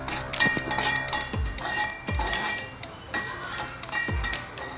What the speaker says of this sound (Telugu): రవ్వ వేయించుకోవాలి